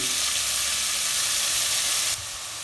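Loud, dense sizzle of ground meat searing in a hot pan for chili con carne, steady throughout, then dropping to a quieter hiss near the end.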